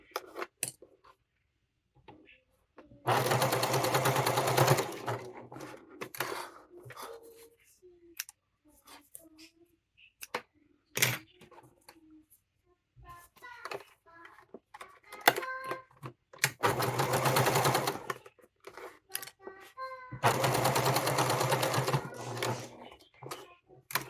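A sewing machine bastes layers of a fabric wallet in three loud, steady bursts of stitching, with small clicks and handling noises in the pauses between runs.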